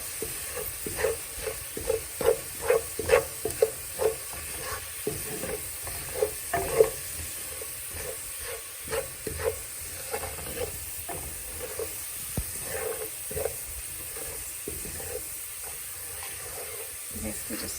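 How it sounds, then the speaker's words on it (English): Garlic and spices sizzle steadily in a pan for a coconut lentil curry, with a run of close, rhythmic stirring scrapes that thin out over a constant frying hiss. "allowing the garlic to brown and sort of burn off a little bit with the spices."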